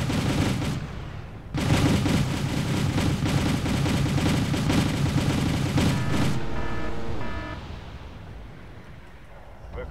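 Sustained gunfire from units in the real-time strategy game Wargame: European Escalation, dense bursts of machine-gun and rifle shots rattling for several seconds before tapering into quieter scattered fire and rumbling battlefield ambience.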